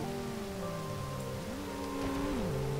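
Rain falls in the L.A. Crimes video game as a soft, constant hiss under a prominent droning tone that slides between pitches, the rain faint and steady throughout.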